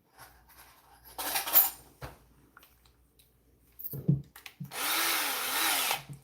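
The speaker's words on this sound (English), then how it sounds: "I'm not using my normal drill bits, so these may take a minute to actually go through" An electric drill runs in bursts while drilling holes with non-standard bits in a circuit-bending project, with clatter and scraping between runs and a long steady whine to finish, close and fairly loud.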